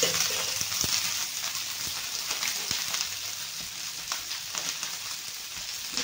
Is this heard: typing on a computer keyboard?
no